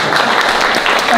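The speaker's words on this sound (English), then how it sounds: "I think applause for Doug." Applause from an audience at a community launch event, a short steady patter of clapping with some voices mixed in, filling the whole moment.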